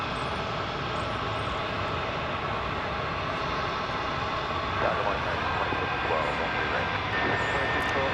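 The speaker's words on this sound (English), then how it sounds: "It's as though I hear a jet in the background in nearby." Jet aircraft engine roaring nearby at DFW Airport, a steady broad rumble and whine that holds loud and continuous throughout, with a slight swell partway through.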